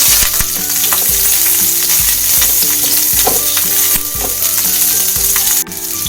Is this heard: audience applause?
no